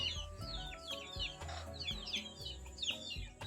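Rooster crowing repeatedly with hens clucking nearby, set against low rumbling farmyard noise and scattered bird chirps.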